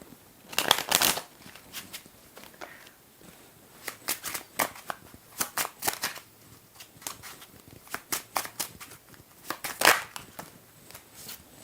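Oracle cards are shuffled by hand in quick irregular bursts of crisp riffling and slapping, close and fairly quiet, with short pauses between rounds.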